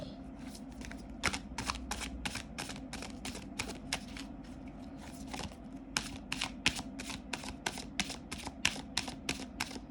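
Oracle cards shuffled by hand in a quiet room, a long run of crisp, rapid riffling snaps repeating in a steady rhythm, close and distinct, with no talk over them.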